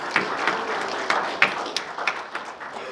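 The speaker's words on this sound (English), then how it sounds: "I want to give you guys a round of applause." Audience applause at a political campaign announcement, a dense wash of clapping with a few sharper individual claps standing out, steady and fairly close throughout.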